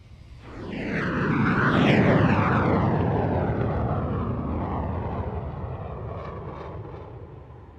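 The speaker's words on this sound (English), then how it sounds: "Both jets come all the way over the top, hold it on their way down, and roll." Two fighter jets at an air show sweep overhead in formation, a loud swelling roar that builds quickly, peaks, then slowly fades as the jets pull away.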